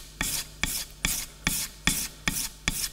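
The bevel of a woodworking chisel is rubbed flat on a sharpening abrasive, producing seven close, even, scraping strokes in a steady rhythm with no talking.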